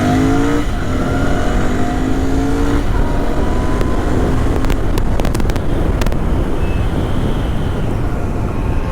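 A retro motorcycle engine revs hard and accelerates away, a loud rising roar that then settles into a steady, rough drone with sharp crackles, close and continuous with no talk.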